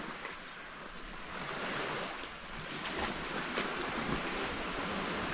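Waves wash onto a beach at Camp de Mar in a steady, broad hiss that swells slightly as the surf rolls in, mixed with some wind noise and no voices.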